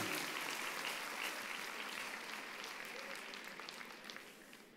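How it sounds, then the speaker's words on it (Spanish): Church audience applauding during a Spanish-language sermon, a sustained patter of many hands clapping that gradually fades toward the end, fairly distant and soft. "Le damos un aplauso al que hizo todo esto"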